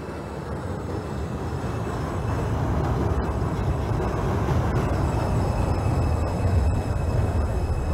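A New York City subway 2 train in the OpenBVE train simulator game runs steadily, a continuous rumble of wheels and motor that grows slightly louder, with faint clicks and no voices.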